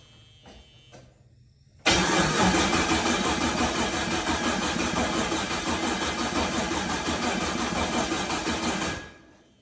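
A turbocharged LS engine in a G-body Malibu turns over continuously for several seconds with a steady, loud mechanical churn, never catching, then stops abruptly.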